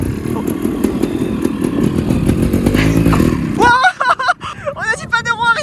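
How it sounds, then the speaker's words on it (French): A new motorcycle ridden during its break-in period, a loud close engine revving and droning for several seconds before cutting off, then people talking. "une moto neuve, il faut faire le rodage"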